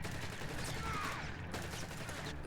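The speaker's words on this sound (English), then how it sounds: "Long range suppression from that MG42." MG42 machine gun firing in a Company of Heroes-style strategy game, a dense, continuous rattle of rapid shots filling the whole stretch at moderate, distant-sounding loudness.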